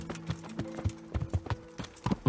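Horse hooves clip-clop steadily while riding in Kingdom Come: Deliverance, a 2018 medieval game on ultra settings. The sharp, fairly close hoofbeats fall in an uneven gallop-like rhythm over faint background sound, with no talking.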